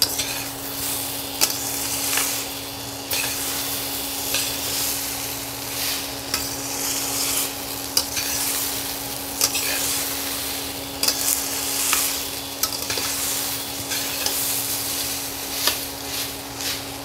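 Food fries in a pan while being stirred, a continuous sizzle broken by repeated scraping strokes and occasional clinks of the utensil against the pan, with a steady background hum throughout.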